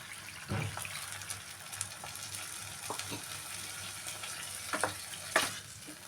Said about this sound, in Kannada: ಒಂದು ಗ್ಲಾಸ್ಲೆ ನೀರು ಹಾಕಿ ಸ್ವಲ್ಪ ಬೇಯಕ್ಕೆ ಬಿಡೋಣ